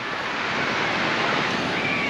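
Surf rolls steadily onto the beach at Old Orchard Beach on the Maine coast, a continuous broadband wash of breaking waves mixed with wind buffeting the microphone, close and fairly loud with no voices.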